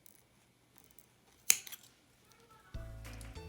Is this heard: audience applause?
no